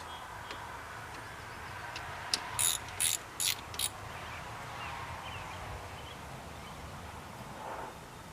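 A wrench working bolts on a 1992 Ford 3930 4x4 shuttle shift tractor gives four quick metallic ratcheting bursts in a row, close and fairly crisp against a quiet outdoor background.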